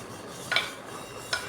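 Beaten rice fried earlier is stirred in a pan with melted jaggery, coconut and banana, giving two quick, faint scraping clinks of a spoon against metal amid quiet.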